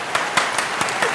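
A short burst of applause and clapping played as a sound effect, a dense wash of many hands with a few sharper claps standing out, steady and fairly loud with no talk over it.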